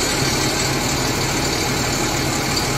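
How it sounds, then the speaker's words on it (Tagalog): A Golden Dragon bus idles with its air-conditioning running, a steady, dense mechanical hum and blower whoosh that stays constant and close throughout, with no talk. "Gumagana na aircon."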